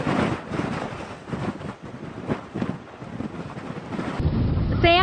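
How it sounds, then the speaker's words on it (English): Strong wind roars during a dust storm, buffeting loudly and steadily across the whole stretch with gusty surges, no voices heard. "Wind speeds have been increasing."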